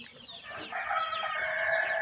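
A flock of desi chickens clucking and squawking together close by while feeding, rising to a dense, continuous chorus.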